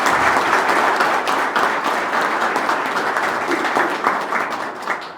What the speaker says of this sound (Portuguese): Vocês merecem uma salva de palmas.